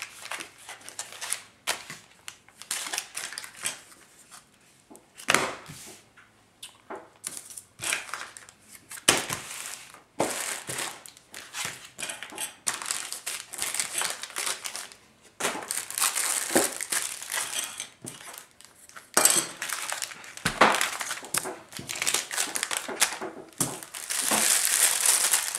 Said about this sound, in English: Open up another accessory packet.